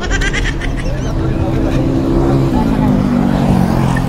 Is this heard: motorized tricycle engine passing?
yes